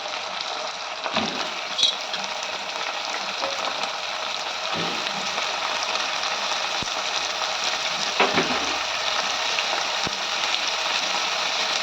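Potatoes and green peas frying in oil with browned onions for vegetable biryani, a steady close sizzle like light rain that runs evenly throughout without talk.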